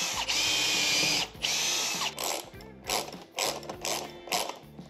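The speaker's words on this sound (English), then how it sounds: "And what we have to use is a 5/32 drill bit. And we need to make some pilot holes in here," A 5/32 drill bit bores pilot holes into wood while a garage door opener is being installed. The power drill whirs in several short bursts, rising and stopping with brief pauses between them. It sounds close, and no one talks.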